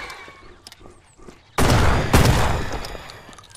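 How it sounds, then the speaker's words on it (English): Gunfire in the Mist Survival video game: a sudden loud burst of close shots, with a second blast hard on the first, then a ringing tail fading out. "How many shots you needed?"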